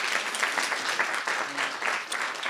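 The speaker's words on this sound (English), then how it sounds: "I would like to first to applaud the experts here and applaud ourselves." Audience applause for the experts at the close of a round table colloquium, a steady dense patter of many hands clapping throughout without pause.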